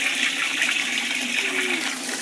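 Tap water runs steadily into a bathtub at bath time for a baby, a constant close rushing and splashing hiss with no voices.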